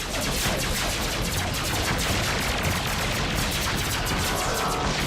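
Weapons fire in an animated sci-fi space battle from the Exosquad cartoon: a dense, continuous barrage of rapid gunfire and blasts, loud and sustained throughout with no let-up.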